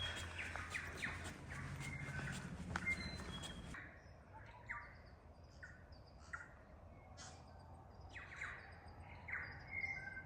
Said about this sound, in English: Just got to love all the bird songs